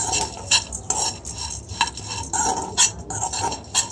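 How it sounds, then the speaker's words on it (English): Seeds being stirred in a sufuria pot, a steady dry rustling and scraping with sharper clinks of the spoon against the metal sides, close and fairly quiet, with no talking. "I'll put my seeds inside the sufuria and then I'll start stirring like this"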